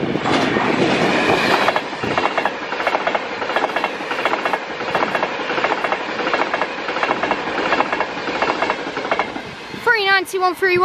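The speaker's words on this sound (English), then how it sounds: "Now arriving is Class 390 Avanti West Coast coming from Preston to London Euston." A Class 390 Avanti West Coast electric train runs from Preston to London Euston, passing close and loud at Crewe with rapid clickety-clack wheel beats for several seconds, then a brief voice at the end.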